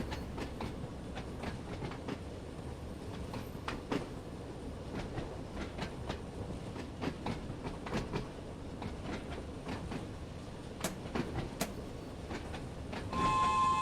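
A London Underground-style train on the Island Line in Train Sim World 2 rolls downhill into a tunnel under light braking, with a steady low rumble and regular clickety-clack of wheels over rail joints, heard close and alone.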